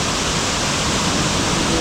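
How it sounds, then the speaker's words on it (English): Uma Anyar waterfall in a gorge in Bali, a loud, dense, unbroken roar of falling water heard close up, steady throughout with no voices. "Okay, waterfall, 50 metres."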